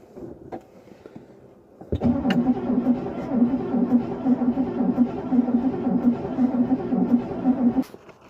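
A 1964 Cadillac Fleetwood's engine is cranked by its starter for about six seconds, a loud, close, rhythmic churning that cuts off sharply.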